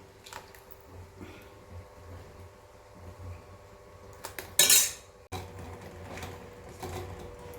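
A spoon stirs mango pudding mixture in a bowl, giving soft intermittent scraping and clinking close by, with one brief louder clatter midway; no one speaks.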